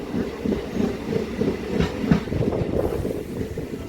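An MMTS local commuter train on the Lingampalli–Medchal line between Malkajgiri and Dayanand Nagar stations rumbles steadily along the tracks, with continuous wheel clatter and rail noise heard from on board.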